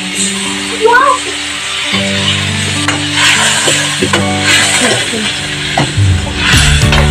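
Sprite soda hisses and sizzles as it is poured into a hot pan of shrimp cooking for a family meal, a steady frying crackle under continuous talk, with a brief clatter from stirring.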